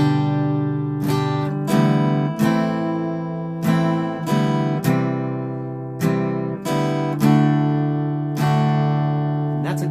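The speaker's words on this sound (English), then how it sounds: "Notice during there that sometimes I would play an up strum while I was switching between chords." A guitar strums simple open chords at a steady pace, with quick up strums slipped in while the hand changes chords. There are roughly a dozen bright, close strokes and no voice.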